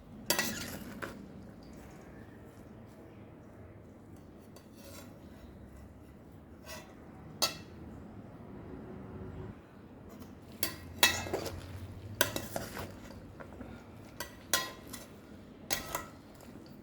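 A spoon stirs and tosses a crunchy mango salad in a bowl, with soft scraping and rubbing broken by sharper clinks against the dish, close and steady.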